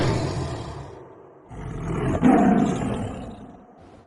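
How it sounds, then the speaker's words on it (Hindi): A lion trapped in a pit roars loudly in a cartoon jungle scene. One long, rough roar swells at the midpoint and slowly fades, with a lower rumble before it and no talking. "शेर जोर जोर से दहाड़ रहा था"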